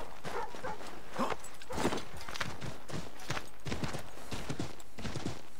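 Horse hooves clip-clop in the video game Assassin's Creed 3, a steady series of close, moderately loud hoofbeats at a walking-to-trotting pace with no voices over them.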